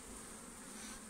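Honeybees being shaken from a nucleus box into a new National hive make a dense, steady buzz that stays close and continuous through the brief moment, with no voices.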